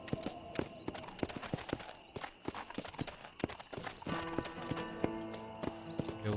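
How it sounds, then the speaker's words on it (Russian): Horse hooves clip-clopping in the Western video game Red Dead Redemption, a steady walking rhythm of sharp close hoof strikes over ambient game music, with an occasional snort and no talk. "Подойдем на лошади."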